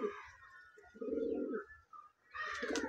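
Close Giribaz pigeons coo in soft, throaty rolling phrases, with short pauses between calls and a brighter fluttery noise near the end.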